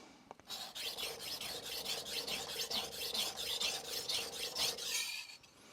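A knife blade is stroked across a Shapton Kuromaku whetstone in quick, even back-and-forth rasps, about four per second. The gritty scraping is close and fairly quiet, and it stops cleanly at the end.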